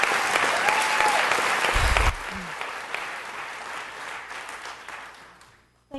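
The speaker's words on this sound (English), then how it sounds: "people here get applauses from the crowd" A crowd at a city council meeting claps steadily and densely for about two seconds, then the applause fades gradually into quiet.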